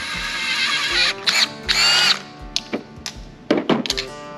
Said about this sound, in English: It's our thread wizard. Cleans all the Loctite out of the threads.